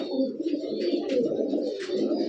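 Several military pigeons coo in a steady, low, continuous murmur, close by, with faint chirps above the cooing.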